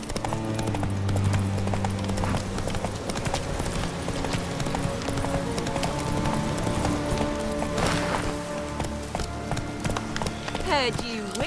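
A horse galloping in The Witcher 3 video game, with steady clip-clop hoofbeats running throughout under game music and ambience, plus a brief whinny-like sweep near the end.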